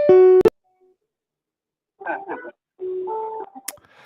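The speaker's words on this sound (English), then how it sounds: "we got us a phone call." An incoming phone call on a live sports talk radio show sounds as a loud electronic tone at the start, followed after a pause by short beeping tones and dialing-like chirps, close and clear.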